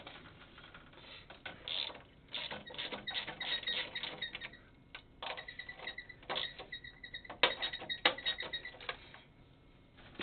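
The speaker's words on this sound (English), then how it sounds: "Alright, so you take your 13mm ratchet." A 13mm ratchet clicks in quick bursts while turning a bolt on a GS-X bowling pinsetter in the short pit, close up with uneven pauses between strokes and no talking.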